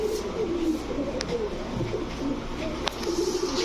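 A Pakistani golden female pigeon, an Aliwala 35 highflyer, coos in soft repeated low calls, close by against a steady background of other birds.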